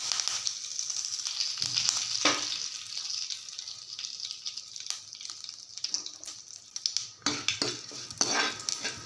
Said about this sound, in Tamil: நல்லா எல்லாமே பொறிஞ்சிருச்சு